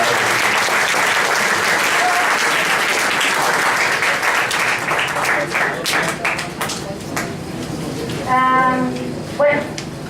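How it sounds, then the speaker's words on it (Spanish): An audience at a university astronomy-applications conference claps loudly and steadily for a teacher about to present her thesis. The applause tapers toward the end as a voice and a few tonal sounds break through. "démosle un fuerte aplauso a la maestra Ana Luz"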